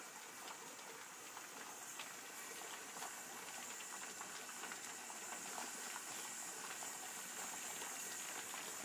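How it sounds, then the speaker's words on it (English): Steam hisses steadily from the holes in the weight of a pressure canner, a continuous close rushing sound with no pauses. "I'm observing some steam coming from the holes in the weight."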